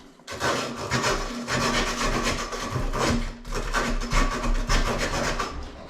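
A deburr tool scraping around the cut edge of a pipe during an angle stop replacement, a loud, continuous rasping rub with rhythmic strokes, close up and with no talking.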